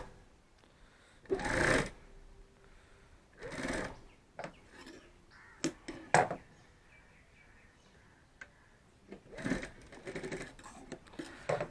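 A sewing machine stitches piping onto a bag in short bursts, rapid mechanical whirring runs separated by pauses, clicks and handling noises, close and clear.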